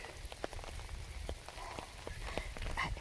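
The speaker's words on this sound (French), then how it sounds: "il pleut de plus en plus." Rain falls steadily outdoors, a soft continuous patter with scattered individual drops tapping close by, growing slightly heavier and with no voices.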